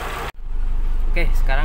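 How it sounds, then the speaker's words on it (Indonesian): An old car's engine idles smoothly and steadily up close, with a short break near the start and a voice talking over the last part. "Suaranya mesin halus ya."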